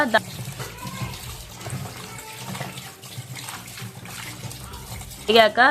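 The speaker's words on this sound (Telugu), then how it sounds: "దాంట్లో కొంచెం సాల్ట్ వేసుకొని నీట్గా కడగాలి." Fish washed by hand in salted water in a home kitchen, with steady running and splashing water through the clip and a voice heard briefly near the start and end.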